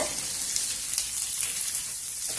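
Chopped capsicum frying in a pan for capsicum rice, a steady, close hiss and crackle of sizzling oil running without pause.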